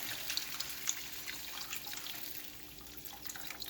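Water pouring into a pan of minced meat, a steady faint splashing and trickling stream with small drips, heard alone.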